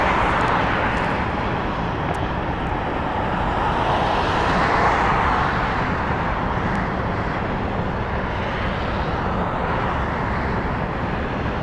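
An airliner arrives at Las Vegas Harry Reid International Airport, a loud, steady, roaring engine wash that holds at full strength throughout, close and dense with a broad hiss.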